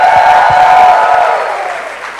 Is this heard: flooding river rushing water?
no